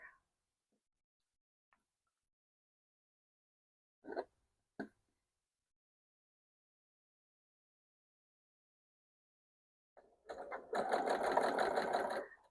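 A sewing machine runs while quilt panel pieces are being stitched together, starting with a couple of brief isolated clicks and then a steady close whirring stitch run near the end, after a long quiet stretch.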